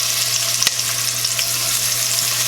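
Oxtail pieces searing flat side down in a hot cast iron pan, giving a steady, loud hiss of sizzling fat with a brief sharper crackle near the start, no talking.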